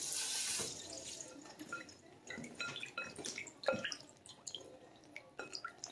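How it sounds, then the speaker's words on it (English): Tap water runs and drips into a kitchen sink as the last of a can of cream of coconut is rinsed out for a fresh coconut cake, with splashy, irregular patters close by and no talk. "I'm just rinsing out the rest of this cream of coconut, make sure I get it all."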